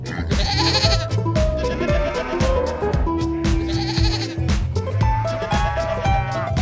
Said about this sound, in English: The Angora goat and kid, and some brown goats as well.